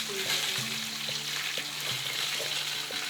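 Peppers frying in a kazan for kebab: a steady soft sizzle of oil, with light clinks and stirring knocks against the pot at intervals.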